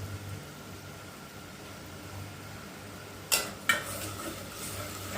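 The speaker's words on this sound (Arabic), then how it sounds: "انا هفضل اقلب كده لحد ما ياخد اللون اللي انا عايزاه." Semolina fries in ghee in a pan under a faint steady sizzle while it is stirred, with two sharp close scrapes of the utensil against the pan near the end and no talk.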